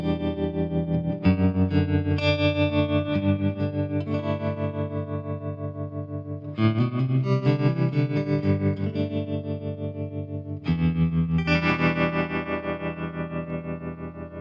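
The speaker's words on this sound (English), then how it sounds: "Let's choose the Blackface Twin, which is like a Fender style amp." Electric guitar played through an Ableton Blackface Twin Fender-style amp simulator, sustained chords ringing with chorus and echo effects, three strummed phrases each fading before the next, loud and alone with no talking.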